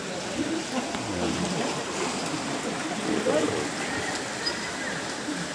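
Water in a wave pool sloshes and spills over its edges during an earthquake, a dense, continuous splashing roar with scattered faint voices mixed in.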